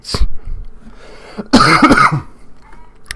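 A person coughing indoors: a short sharp cough near the start, then a louder, harsher burst of coughing and throat clearing in the middle, close to the microphone.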